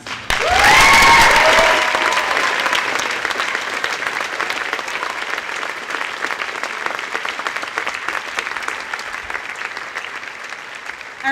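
Sustained audience applause for a graduate at a high school graduation ceremony, opening with a brief whistle or cheer, then steady dense clapping for about eleven seconds.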